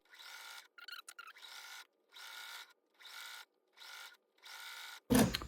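A sewing machine stitches around the curved binding of a quilted fabric dog treat toy. It runs in about six steady bursts with short pauses between them, and a sharp thump comes at the end.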